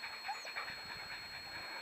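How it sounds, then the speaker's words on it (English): A German short-haired pointer panting quietly outdoors on a dirt road in the high desert, a soft, rapid, rhythmic huffing under faint background noise. "and Dexter, the German short-haired pointer, he's a visitor for this weekend."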